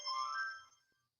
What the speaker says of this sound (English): That was my phone that just sang.